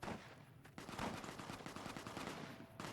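Distant gunfire rattles through a Fallout: New Vegas game scene, a rapid run of repeated shots after a brief lull, steady and moderately loud.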